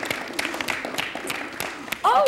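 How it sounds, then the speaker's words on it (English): An audience at a Cymbeline theatre workshop claps, a light scattered round of applause that continues throughout, and a voice speaks briefly near the end. "Give yourselves a round of applause."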